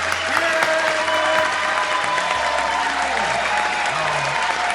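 A crowd claps and cheers loudly and continuously, with some tonal sounds layered over the applause.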